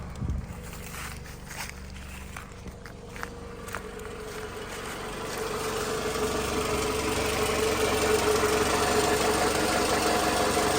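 A 2009 Toyota Matrix S engine idles close by, a steady low hum that grows slightly louder partway through, with a few faint clicks and shuffling sounds early on.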